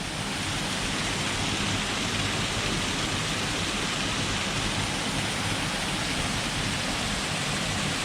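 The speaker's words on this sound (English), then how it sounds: "come across these two waterfalls just off the trail" Two waterfalls beside a creek on a wooded trail roar nearby, a dense, steady rush of falling water that holds unchanged throughout.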